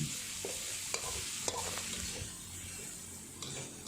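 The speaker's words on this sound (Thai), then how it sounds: "ผัดหมูให้สุกก่อนเลยนะคะ" Minced pork stir-frying with garlic over high heat, a loud, dense sizzle with occasional light spatula taps throughout.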